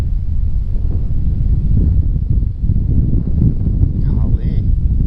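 Strong gusting wind buffets the microphone out on a small creek during kayak fishing, a loud low rumbling roar that swells and dips, with a brief bird call near the end.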